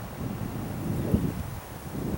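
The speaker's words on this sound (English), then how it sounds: "Getting a little windy out," Outdoor wind buffets the microphone in a steady low rumble with gusty swells, loud and continuous for a couple of seconds.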